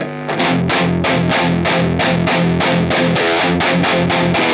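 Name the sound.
distorted electric guitar chugging through amp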